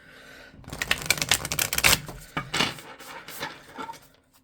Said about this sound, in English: I'm just going to give these cards a shuffle